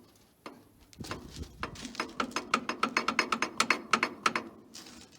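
Someone turns the hand crank on an old Minneapolis Moline tractor, making a quickening series of dry mechanical clicks and ticks that grow louder, then stop.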